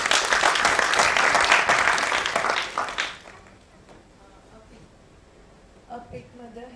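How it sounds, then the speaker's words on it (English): An audience at a talk applauds the volunteer team, loud dense clapping for about three seconds that quickly dies away, followed by quiet room sound and a speaking voice. "Round of applause to the volunteer team."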